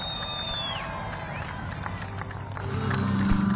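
An airshow crowd cheering and clapping for Army Golden Knights parachute jumpers at Joint Base Andrews, a steady distant roar of voices that swells louder toward the end, with a brief whistle early on.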